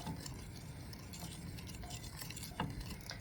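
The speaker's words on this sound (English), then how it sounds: "You can give it a little stir to make sure nothing sticks on the bottom" Butter and sugar being stirred in a pot for Cape brandy pudding, giving a steady low scraping swirl with faint utensil clinks and one sharper knock near the end, close and continuous.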